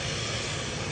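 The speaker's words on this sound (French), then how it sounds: "Au décollage, le Ju 52." A Junkers Ju 52 trimotor airplane taking off at La Ferté-Alais, a steady broadband engine and propeller roar filling the whole moment, loud and continuous with no voices.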